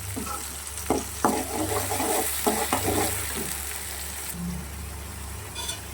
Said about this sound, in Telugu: టమాటా కూడా వేగేసింది